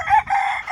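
A rooster in a poultry shed housing chickens, ducks and turkeys lets out a short, loud, close crow that lasts under a second.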